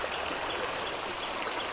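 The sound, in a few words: stream with little water flowing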